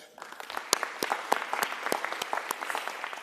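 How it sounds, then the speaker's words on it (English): Light applause from a small audience at a community event on substance use awareness, a handful of scattered, uneven claps rather than a full ovation, fairly soft and sparse throughout. "Let's give a round of applause again to all of our speakers that came and spoke before us today."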